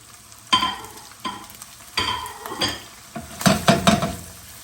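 Lemon sole fillet laid skin-side up in a hot pan, frying with intermittent sizzling bursts and clinks of a utensil against the pan, close and moderately loud, no talking.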